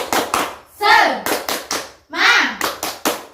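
A class of fourth-grade children performs the rhythmic 'tepuk semangat' clap, crisp loud handclaps in a patterned beat alternating with their chanted shouts.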